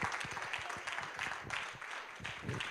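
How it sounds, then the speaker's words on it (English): A church congregation at a Tuesday night service claps for Brother Jerry Porter, a dense, continuous patter of many hands filling the room at moderate loudness, with voices mixed underneath. "can y'all stand and give an applause for Brother Jerry Porter"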